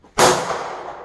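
A KelTec PMR30 .22 Magnum pistol fires a single loud, sharp shot outdoors at a range, the crack followed by a short decaying echo.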